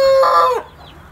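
A domestic chicken gives a single short clucking call that ends abruptly. The bird is kept with other poultry being given antibiotic drinking water. The call is fairly loud and near, followed by quiet.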